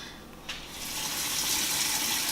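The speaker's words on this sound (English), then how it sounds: "you want to make sure you wash your hands for at least 10 to 15 seconds to capture all the germs" Tap water running over hands at a sink, starting quietly then swelling into a steady, close, broadband gush of water that continues to the end.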